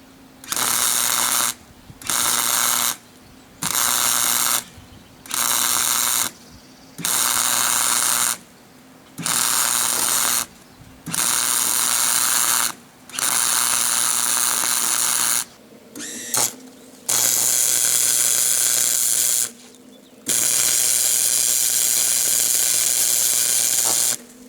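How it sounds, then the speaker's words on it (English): A MIG welder laying beads on a rusty cross brace of a BMB rotary mower, loud crackling bursts of several seconds each separated by short pauses, repeated steadily with no talking. "So I can easily do that with the MIG. So I'm going to go back, use the MIG."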